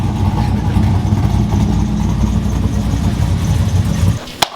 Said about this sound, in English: the car started up on the first try beautifully. Sounds amazing.